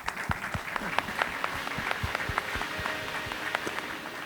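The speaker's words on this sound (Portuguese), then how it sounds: "Olha aí, palmas." Audience applause at a conference, fairly light and scattered, with individual claps distinct and irregular over a soft crowd murmur, moderately distant throughout.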